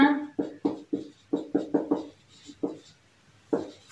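Chalk strokes on a board during a chemistry lesson, a string of about a dozen short scratchy taps and swipes in an uneven rhythm, close and clear, with no talking.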